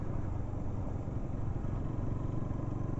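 A BS-7 E20 edition NS 200 motorcycle running on the road, a steady dense engine drone with wind noise throughout, fairly low in level and without talking.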